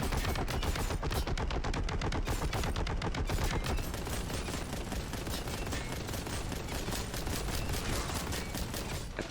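Dense, continuous gunfire from the Warhammer 40,000 Boltgun video game, rapid loud shots hammering in an unbroken stream with no pauses and no talk over them.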